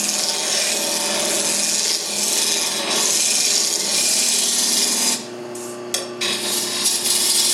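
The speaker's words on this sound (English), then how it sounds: "you could rub it on like a paste wax, like this" A cloth rubbing paste wax onto a wooden document chest gives a steady, close, broadband scrubbing rasp that runs continuously, easing off briefly near the end before resuming.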